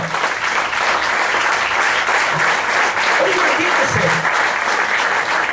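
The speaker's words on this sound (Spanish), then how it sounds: "Den un aplauso al Señor." A congregation at a Spanish-language church service breaks into warm, sustained applause, a dense even wash of many hands clapping that fills the sanctuary, with faint voices mixed in beneath.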